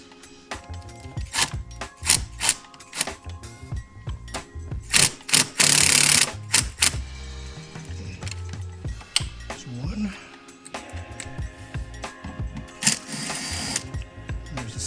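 A hand ratchet backs out two 8mm bolts holding the resonator box on a 2014-2018 Chevrolet Silverado 1500 during a cold air intake install, with quick, repeated clicking runs, nearby and fairly loud, under someone talking.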